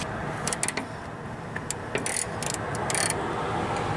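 A chrome vanadium ratchet driver clicks in short bursts of quick, light pawl ticks, faint and close in a quiet workshop during a riding lawnmower steering linkage repair.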